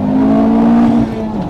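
A 2019 Honda Civic Type R engine held at a steady high rev, a loud, droning tone that drops off after about a second as the throttle eases.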